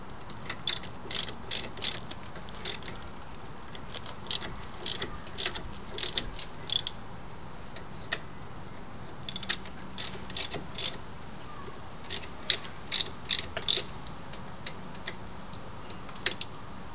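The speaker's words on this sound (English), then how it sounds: "you just tighten it up. Take a wrench." A wrench ratchets steadily as brake caliper bolts are tightened on a Pontiac Grand Prix during a brake job, giving close, dense runs of clicking with brief pauses and no talk.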